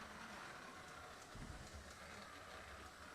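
Lionel model train running on a 4x8 layout with a grid crossover, a steady low rumble and rolling rattle with faint clicks, continuous and moderately quiet.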